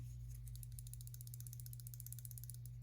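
A folding knife rattles with a steady run of fine metallic clicks throughout, over a constant low hum.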